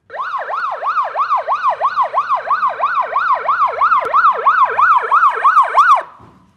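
An ambulance siren wails loudly in a fast, regular up-and-down cycle, close and alone, repeating about a dozen times before cutting off abruptly.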